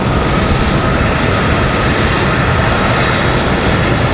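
A WestJet jet airliner departing Raleigh-Durham airport on a stormy day, a loud steady engine roar filling the whole stretch without letup and no voices.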